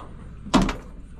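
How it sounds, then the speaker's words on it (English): A door on an aluminum Corsair boat swings shut and clicks onto its hook latch, a single close thunk with a quick double-tap click, alone against quiet background. "you just push it down until you hear a click"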